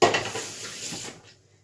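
A whisk clinks and scrapes rapidly against a metal pot while beating a gelatin mixture for a no-bake cake, close and busy at first, then tapering off into near silence.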